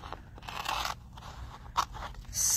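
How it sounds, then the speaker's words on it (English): Scissors make a rough cut through a sheet at a crafting table: several close, crisp crunching snips in an irregular rhythm, with quiet pauses between strokes and no talking. "I am going to cut out what I need just out of it, a rough cut"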